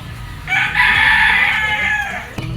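A gamecock rooster, a broadcock from a backyard breeder, crows once in a single long, loud, nearby call that rises and holds before trailing off, with no voices over it.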